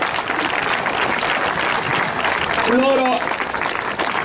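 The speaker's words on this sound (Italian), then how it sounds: "vi chiedo un applauso" Audience applause at a political rally for a 2018 municipal mayoral candidate, a steady dense clapping wash filling the whole stretch, with a voice speaking over it partway through.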